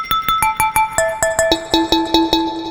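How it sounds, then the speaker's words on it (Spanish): A sampled glass note played in a Cubase software sampler, repeating as a bright pinging tone about twice a second, stepping down in pitch across the run, clean and close with no talk. "yo tengo esta nota de copa, que ahora suena así"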